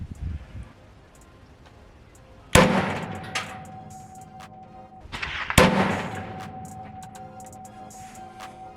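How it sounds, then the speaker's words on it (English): Rifle shots from a Noveske N6 with a 12.5-inch barrel crack sharply outdoors, spaced a few seconds apart, each followed by a ringing, echoing decay over quiet background noise. "All right, so that was our 3 shots."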